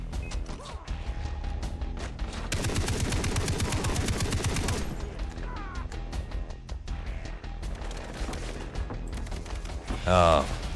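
Rapid shotgun blasts and gunfire crack through a firefight in the video game Far Cry 3, a dense burst of shots over continuous game noise, with a player's voice talking over it.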